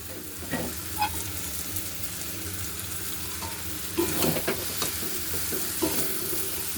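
Prawn and bottle gourd peel curry with coriander leaves being stirred in a pan, a soft steady sizzle with intermittent scraping spoon strokes that grow busier toward the end.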